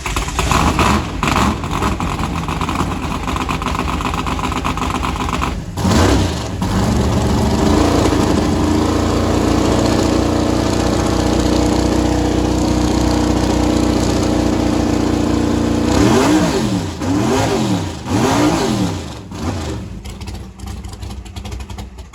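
A 1968 Camaro race car's V8 fires up and runs on all eight cylinders, a loud, steady close-up engine note broken by several sharp revving surges near the end.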